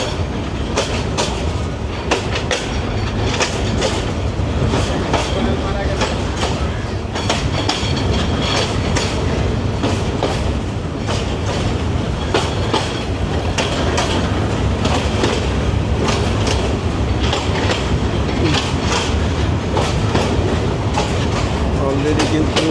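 A passenger train between Dhaka and Kishoreganj rounding a curve and switching tracks, heard from onboard as a continuous rumble with recurring clickety-clack wheel beats over rail joints and occasional faint wheel squeal.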